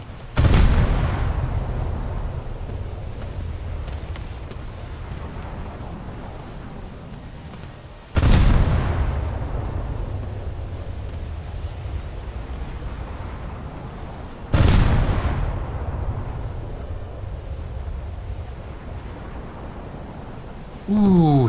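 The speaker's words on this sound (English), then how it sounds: "He got hit by a torpedo." Three heavy booming impacts a few seconds apart, each a loud explosive hit that decays slowly, as torpedoes strike an enemy ship in a naval battle game, with a voice talking in the background.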